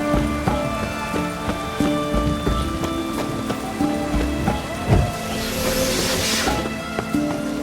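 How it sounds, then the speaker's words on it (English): Steady rain pours in The Witcher 3: Wild Hunt, a dense, continuous patter on surfaces with faint rumbles and a few soft knocks, no voices over it. "It's damp. It's raining,"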